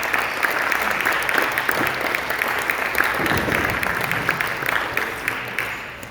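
Audience applause at an awards banquet, steady dense clapping from a large crowd that holds for several seconds before starting to fade.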